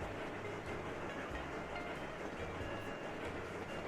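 A tram rolls on rails in the train-management game Sweet Transit, a steady rumbling rail noise with faint rhythmic clacks, continuous and even, with no talking.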